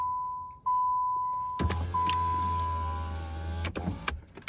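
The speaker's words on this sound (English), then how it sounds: "I'll get the car into run so we can try the windows" Power windows on a Chrysler car run with a steady electric motor whine that starts and stops in a couple of separate strokes, close up inside the cabin, with no talk over it.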